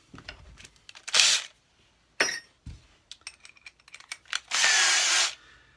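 Short bursts of a power drill whirring into wood while building a cigar box guitar, two main runs separated by clicks, handling noises and brief rattles, close up.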